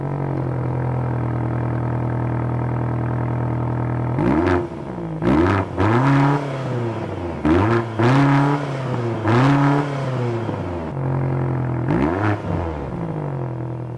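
A 2023 BMW XM M-powered hybrid, still in its break-in period with reduced engine power, revs while driving on the road. The engine note climbs and falls in several close, repeated surges over a steady drone, with no talk.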